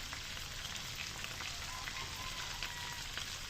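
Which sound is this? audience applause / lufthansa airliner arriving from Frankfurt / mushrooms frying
mushrooms frying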